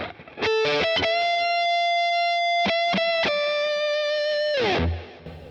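Electric guitar through a Boss Katana amp plays sustained, distorted lead notes with a bending pitch and sharp picked attacks, bathed in spacious hall reverb for a big stadium tone.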